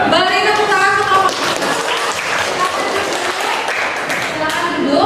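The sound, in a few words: applause for a group in class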